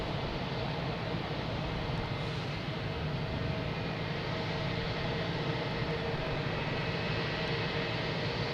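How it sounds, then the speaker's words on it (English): A JetBlue Airbus A321 arriving from LAX lands at Boston Logan, giving a steady, even broadband engine roar that holds at a constant level throughout, with no voices. "We have a JetBlue coming in, an A321, coming in from LAX"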